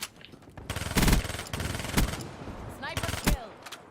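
Gunfire in Black Ops 3 team deathmatch: bursts of automatic weapon fire and sharp single shots scattered irregularly, some loud and close, others fainter, with a voice faintly under the shooting.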